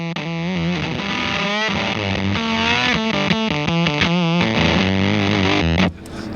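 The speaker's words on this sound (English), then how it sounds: "A little octave. A little bit of distortion." An electric guitar plays a fuzzy, distorted melodic line with a doubled lower octave, sustained notes and slides, cutting off abruptly near the end.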